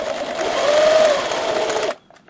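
A sewing machine runs a quick, continuous stitching burst through layers of fabric and seam allowance on a hat, humming loud and close for about two seconds before stopping abruptly.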